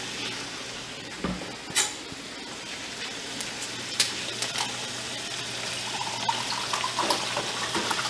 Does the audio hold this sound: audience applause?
no